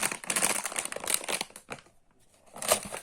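Plastic packet crinkling and rustling during an unboxing, dense close crackles in bursts with a brief pause before more crumpling.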